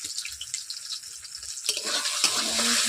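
Beaten eggs frying in hot oil in a pan, a loud steady sizzle that swells after a stir partway through, close and continuous with no talking.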